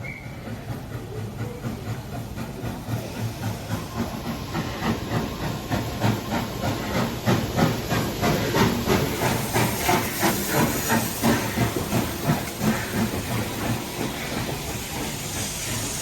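Steam locomotive easing into a station platform at a heritage steam festival in New South Wales, a loud continuous hiss of steam over rhythmic chuffing and clattering wheels that builds and then steadies.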